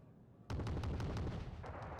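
Cannon run in Wargame: Red Dragon, a sudden burst of rapid heavy gunfire, a string of sharp, loud repeated shots that keeps going after a quiet start, with no voices.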